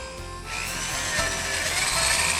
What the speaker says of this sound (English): we'll simply drill a 1/4 inch hole where the feeder wires exit our track